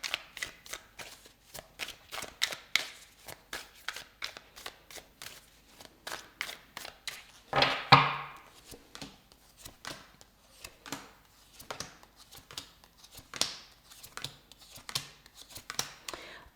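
Tarot cards shuffled by hand in a quiet room, a long run of rapid crisp riffling clicks and slaps with one louder burst partway through, close and without talking.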